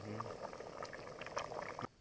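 Bograch stew bubbles in a pot over a fire beside the Zdvyzh river, a steady soft gurgle with faint voices in the background before it cuts off abruptly.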